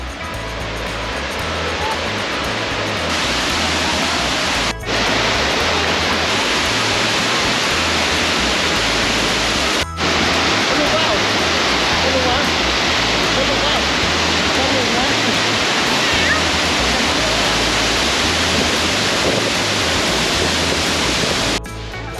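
The Tao Dam waterfall in Thailand roars loudly and continuously at close range, a dense, steady rush of falling water that fills the whole scene.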